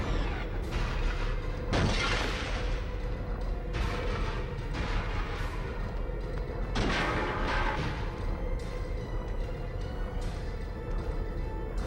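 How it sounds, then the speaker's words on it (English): A boss firing missiles in Spyro: A Hero's Tail, a steady barrage of booming blasts and crashing impacts over dense continuous game noise, loud throughout. "Because he should shoot missiles at us."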